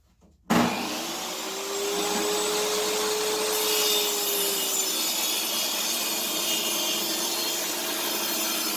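Table saw ripping hickory and cherry boards for a cutting board with a dull blade, starting abruptly and running as a steady loud whining roar with a sustained tonal hum throughout.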